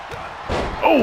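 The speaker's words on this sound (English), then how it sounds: "LA Knight takes him down the clothesline right away" A clothesline takedown impact in the WWE 2K23 wrestling video game lands as a sharp slam midway, followed by a short swelling crowd reaction.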